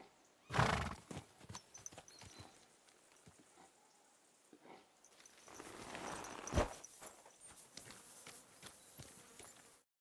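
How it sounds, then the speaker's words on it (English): Horses in the medieval game Kingdom Come: Deliverance II, with a loud close neigh near the start and another around the middle, clip-clopping hooves and scattered footsteps in between, light rain-like patter behind. "The horses are waiting, son."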